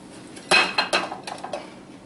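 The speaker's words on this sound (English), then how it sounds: "I'm going to take this one out of the loaf pan" A zucchini loaf is taken out of its metal loaf pan, giving several close knocks and clatters of the pan in quick, uneven succession.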